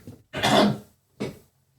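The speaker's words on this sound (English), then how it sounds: "I need to clear my throat again." A person clears their throat up close, first with a longer rough rasp and then a shorter second burst, with silence around both.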